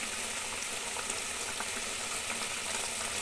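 A thin pabda fish curry bubbles steadily in a pot, a continuous close simmering hiss with soft popping that stays even throughout, no voices.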